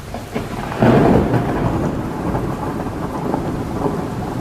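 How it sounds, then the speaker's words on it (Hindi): Heavy rain pours steadily while a deep roll of thunder rumbles near the start, a dense, loud wash of downpour continuing without pause, part of a horror thriller audiobook scene. "बरसात और तेज हो गई थी। रह रहकर बिजली कड़क रही थी"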